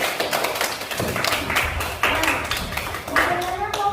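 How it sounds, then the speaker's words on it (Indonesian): A small group of students claps in quick, uneven bursts in a classroom, close and fairly loud, with voices mixed in. "Tepuk tangan dulu untuk kelompok"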